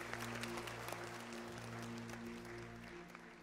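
A church congregation applauds in a faint, steady patter that fills a few seconds without any other sound standing out.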